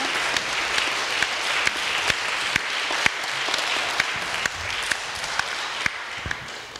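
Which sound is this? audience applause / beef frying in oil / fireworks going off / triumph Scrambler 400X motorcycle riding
audience applause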